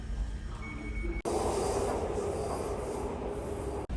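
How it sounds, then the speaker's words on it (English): A London Underground Northern Line train rumbles along the track with a loud steady roar and a high squeal of wheels, heard from on board with two brief sharp dropouts. "Northern Line train terminating at Edgware"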